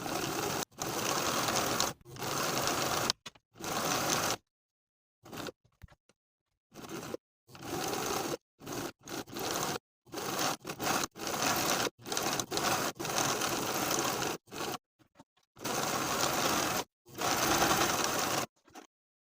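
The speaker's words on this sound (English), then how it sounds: "You can use your serger, a zigzag stitch, or you can fold those raw edges to the wrong side by 1/4 of an inch and zigzag" A sewing machine zigzag stitches the raw edges of cardigan fabric in quick bursts of rapid mechanical chatter, stopping and restarting many times between short silences, close up with no voices.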